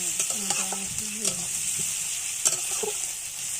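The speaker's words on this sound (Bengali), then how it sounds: "একটু নুন দিয়ে ভালো করে লাল লাল করে ভেজে নেব" Chicken curry with onions and salt sizzling in a pan, with scraping stir strokes in the first moments over a constant bright frying hiss.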